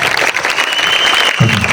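Applause from a crowd at a government higher secondary school's sports day inauguration, steady dense clapping throughout, fairly loud and close, with a brief thump near the end.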